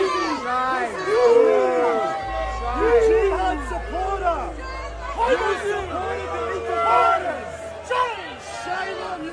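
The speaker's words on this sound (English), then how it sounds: "Oh, they're shouting shame at him." Protest crowd outside jeering and shouting at the Prime Minister, a dense, loud wash of overlapping voices and chants that swells and ebbs continuously without pause.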